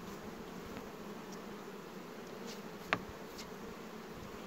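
Honey bees buzz steadily at a hive during a honey extraction, a dense continuous drone with one or two brief louder passes of a nearby bee.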